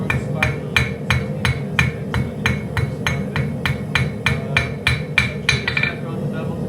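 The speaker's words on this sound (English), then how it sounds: "now I'm going to straighten the spine out. I'm going to hammer the spine a little bit." A hammer strikes the spine of a hand-forged 52100 steel kitchen knife in a steady run of about twenty sharp ringing metallic blows, close up, over a low continuous hum or murmur in the background.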